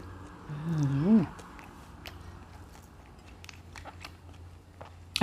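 Someone eats crunchy fried catfish close up, with soft crackling bites and chewing throughout, while a short, rising vocal sound near the start sits over a faint steady background hum.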